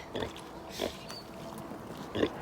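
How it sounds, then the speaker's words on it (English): A mother pig on a ranch oinks and snorts in three short grunting bursts spaced across the moment, close by and moderately loud against a quiet outdoor background. "What you doing, Mama pig?"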